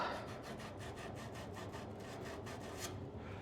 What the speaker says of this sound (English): Clean up our copper pipe here.